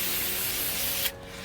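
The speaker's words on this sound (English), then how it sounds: "we want to take a little bit of brake clean and clean that off" Brake cleaner sprays in a steady, loud, close hiss onto a new front brake rotor on a 2013-2020 Ford Fusion. It cuts off abruptly near the end, leaving a quieter background.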